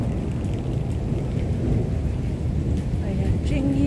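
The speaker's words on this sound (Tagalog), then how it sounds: "Kumukulog." Thunder rumbles low and continuous through steady rain in a park in Hong Kong, the downpour hissing loudly throughout with a faint voice briefly underneath.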